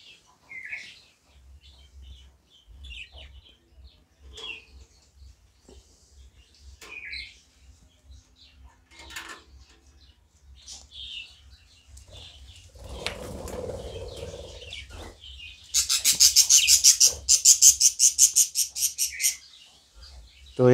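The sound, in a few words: budgerigar birds chirping and flapping in their nest box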